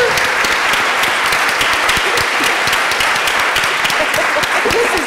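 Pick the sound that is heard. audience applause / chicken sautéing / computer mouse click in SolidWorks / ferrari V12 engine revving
audience applause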